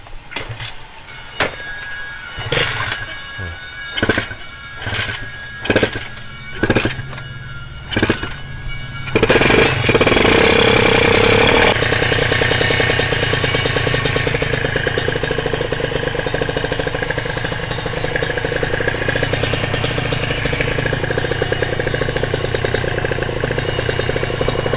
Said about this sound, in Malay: Ini sekarang Andy try start motor ni